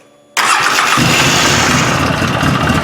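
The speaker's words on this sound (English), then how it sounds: "fire that rascal up and let's see what she does" A Polaris 800 snowmobile engine, fitted with a stuck oil pressure relief valve, cranks and catches after a brief quiet moment, then settles into a loud, steady, close running roar.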